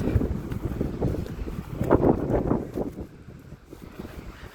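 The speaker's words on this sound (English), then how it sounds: "The wind's really strong today, a lot stronger." Strong wind buffets the microphone outdoors on a walk, gusty low rumbling blasts that swell and ease over a few seconds, loud and close with no talking.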